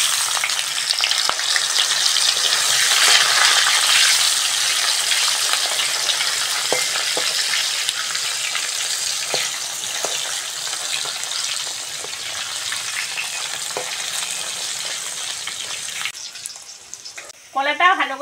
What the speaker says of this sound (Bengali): প্রথমেই তেলের মধ্যে কলাগুলো দিয়ে ভালো করে ভেজে নেব।